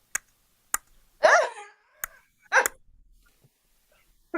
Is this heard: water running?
no